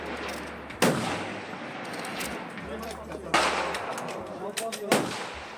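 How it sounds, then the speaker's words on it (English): Three loud, sharp K31 rifle shots at a 300-meter shooting range, each a sudden crack with a decaying echo, spaced a few seconds apart over faint background noise. "a morning of shooting 300 meters with friends and to try out this rifle"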